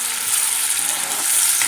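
Chicken liver masala fries in oil, a brief, even hiss of sizzling with no talk.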